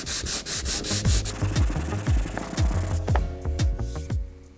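Sandpaper is rubbed over wood where holes were filled with CA glue, making loud, close, rhythmic back-and-forth scratchy strokes that keep a steady pace.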